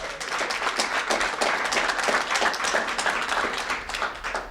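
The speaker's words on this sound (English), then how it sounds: "Let's give a round of applause again to all 3 grant awardees." Sustained audience applause at a press conference honoring grant awardees, dense and fairly loud clapping from a crowd continuing steadily throughout.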